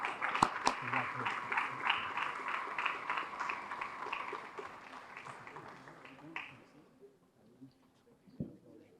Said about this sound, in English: How about giving them a big round of applause?